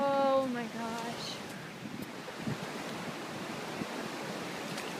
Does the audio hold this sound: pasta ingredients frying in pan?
no